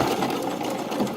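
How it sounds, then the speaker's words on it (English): A sewing machine runs steadily at close range, stitching a short tack while sewing lingerie, with a dense, even mechanical whir throughout and no talk. "So let's head to the sewing machine and do those things."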